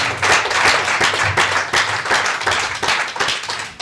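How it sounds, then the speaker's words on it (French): Sustained audience applause, dense and steady clapping from a crowd filling the whole stretch with no voices on top. "On peut les applaudir."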